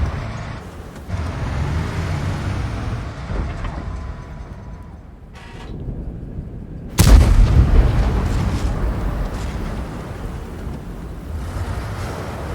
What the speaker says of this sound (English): We're just going to keep on firing.